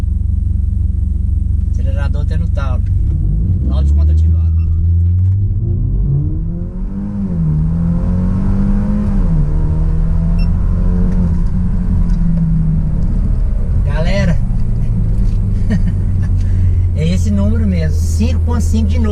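A BMW 320 GT in Sport mode with the transmission in S launches hard from a standstill for a 0–100 km/h run, the engine note climbing through the revs in loud, sustained rising sweeps with brief dips at gear changes, while people talk over it.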